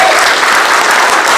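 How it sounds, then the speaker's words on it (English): Audience applause at a gaming expo in Blackpool, a dense, loud burst of clapping from a close crowd filling the short moment without pause. "Give Gary a round of applause."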